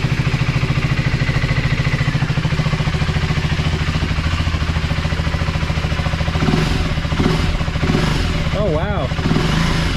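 A 2024 Husqvarna Svartpilen 401 fitted with a FuelX Lite and a DNA stage 2 air filter rumbles steadily nearby with a low, grunty idle and a few short blips, while a man exclaims over it.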